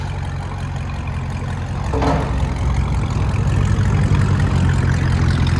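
A Chevrolet Camaro SS with a 6.2L V8, long-tube headers and a complete Borla exhaust system, idling with a loud, deep continuous rumble close by, rising slightly partway through and holding steady.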